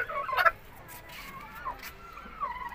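A brooding hen, a cross of Pakistani and Thai chicken breeds, lets out a couple of faint, short gobbling calls over quiet background noise, with one louder call near the start.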